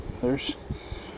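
Honeybees buzz during a June hive inspection, one loud close buzz sweeping past amid quieter brief hums and frame handling.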